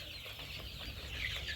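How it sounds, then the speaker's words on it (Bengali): Layer hens raised for eggs cluck softly on a farm, a faint, continuous murmur of fowl with no speech over it. "এই মুরগিগুলো ডিমের জন্য তৈরি হয়েছে।"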